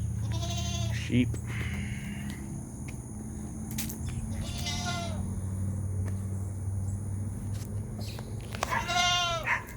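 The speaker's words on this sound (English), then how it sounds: "Sheep." Sheep bleating nearby at a property in Orlando, Florida, three separate wavering calls spaced a few seconds apart over a low background hum and faint outdoor noise.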